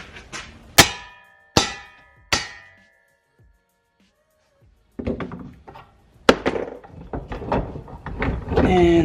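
Sharp metal clangs from hammering a U-joint out with a socket on a Duramax driveline, three loud evenly spaced strikes, then a pause, then a busier run of knocks and clatter.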